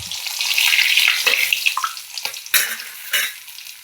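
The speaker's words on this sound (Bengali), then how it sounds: "দেখুন সব মাছগুলো আমি ভেজে নিয়েছি," Pieces of rohu fish sizzle in hot oil, a bright crackling hiss with sharp spitting pops and bursts as pieces are moved, close and loud without speech.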